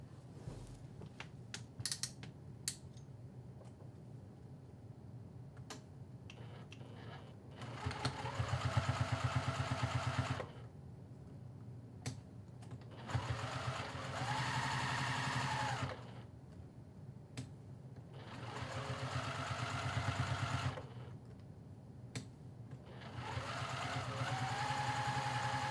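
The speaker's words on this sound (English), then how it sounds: "I'm going to take this over to the sewing machine, and I'm actually going to sew the entire outer edge" Sewing machine top stitching the outer edge of a fabric shoulder strap pad at a 3 mm stitch length, running in three or four separate bursts of steady whirring with quiet pauses between, close by.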